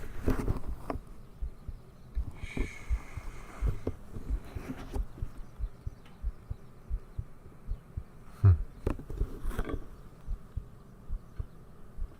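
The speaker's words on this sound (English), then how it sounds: "You can hear my heart beating a little fast." Close, slightly fast heartbeat heard as a run of soft low thumps in quick regular pairs, with a few faint rustles over them and no talk.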